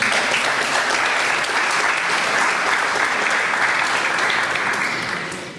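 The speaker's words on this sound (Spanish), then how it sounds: "pido un fuerte y reconocido aplauso" An audience at a Lambayeque Bar Association ceremony applauds a speaker, a dense and steady wash of clapping from a large crowd that fades slightly at the end.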